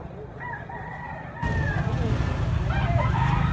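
Gamecock roosters crow at a cockfighting bird market in Carbon, with several overlapping cock-a-doodle-doo calls rising and falling, some near and some farther off, over a busy crowd murmur that grows louder partway through.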